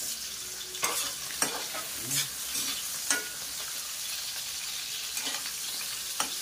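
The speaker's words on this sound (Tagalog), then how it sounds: "Mainit na natin kawali. Lagyan natin ang patatas natin saka carrot." Potato and carrot pieces fry in hot cooking oil in a pan, a loud steady sizzle broken by repeated clinks and scrapes of stirring, close by and with no one talking.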